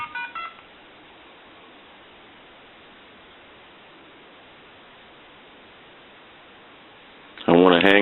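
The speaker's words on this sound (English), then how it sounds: "hit redial." A quick burst of redial keypad tones from an Ericofon reproduction telephone, then a long stretch of faint line hiss, ending with another rapid run of dialing tones.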